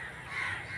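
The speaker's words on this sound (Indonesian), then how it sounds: "banyak banget burung gagak ya." A single crow caws once, a short harsh call close by, heard alone over faint background noise.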